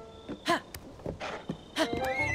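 A horse whinnies and snorts in a video game, several loud, close neighs with quavering pitch separated by short breathy snorts and a faint hoof clop, with no talk over it.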